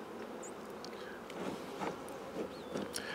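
Honey bees buzz around colonies of four to six frames outdoors, a faint, steady drone with individual bees zipping close by now and then.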